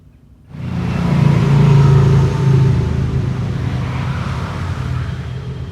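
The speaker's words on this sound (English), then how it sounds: "See the motorcycles go by?" Motorcycles passing on a nearby road beside a nature trail, a rumbling engine sound that swells in quickly, peaks, then lingers as a steady roar.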